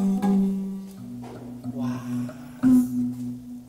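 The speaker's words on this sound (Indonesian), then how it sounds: "ini suara gong kecil" A small bronze gamelan gong rings with a steady, humming tone that holds and shifts pitch, then is struck again near the end, the fresh stroke swelling louder before the ring sustains.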